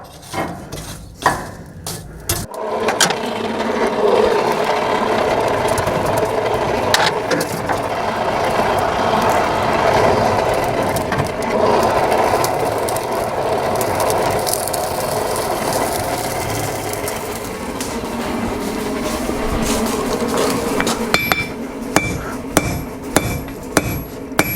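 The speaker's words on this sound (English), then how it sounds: "Because of the added heat, you may have noticed that I'm forging it out much more rapidly now." A blacksmith forges hot metal at about 800 to 900 degrees, with sharp hammer blows on an anvil that land in a quick, steady rhythm. Loud ringing strikes come close up over a continuous workshop rumble.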